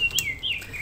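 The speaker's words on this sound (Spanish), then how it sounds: "oh, cállate pájaro." A bird chirps in a video game, a couple of short, bright tweets and a rising whistle over quiet background noise.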